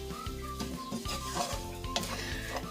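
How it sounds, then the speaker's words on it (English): Stirring a vegan cheeseburger mix with frozen peppers and onions in a pan, a steady sizzle with scraping and clinking of a utensil against the pan, close and continuous with no talking. "I'll just mix this all up."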